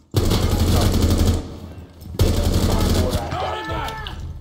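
Two long, dense bursts of machine gun fire in the tactical shooter Rainbow Six Siege, loud and close, the first about a second and a half, the second trailing into fainter shots with a voice over the end.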